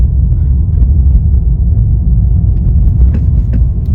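A car's engine rises under a learner driver's gas pedal, heard from inside as a close, low, steady rumble with slight swells and no speech over it.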